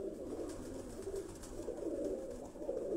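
Indoor pigeon loft in Mirpur with faint, continuous low cooing from many birds, a distant soft murmur with no speech.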